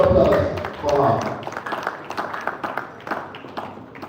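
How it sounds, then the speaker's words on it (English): Audience at a Rivers State Investment Promotion Agency event claps for a board secretary, starting loud and close as voices talk over it at the start, then thinning into scattered, fading handclaps. "Ladies and gentlemen, let's have a round of applause for her."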